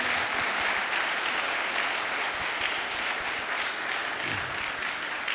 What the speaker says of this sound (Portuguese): Dá uma salva de palmas para Jesus. Pode dar, forte.